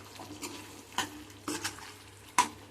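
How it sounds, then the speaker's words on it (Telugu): A spoon stirs potato and brinjal curry in a pan after garam masala and coriander are added, making four or five distinct scraping strokes over a soft, close background sizzle. "ఒకసారి కలుపుకుందామండి"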